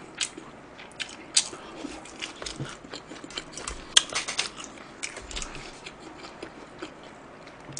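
Someone eats quickly during a Korean mukbang of school lunchbox foods, with close, sharp chewing and smacking clicks arriving in an irregular, rapid pattern.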